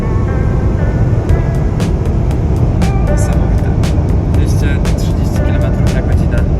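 An electric Yangwang U9 drives on a track, giving a steady broadband road and wind roar heard from inside the car, loud and constant, with faint clicks and squeaks over it.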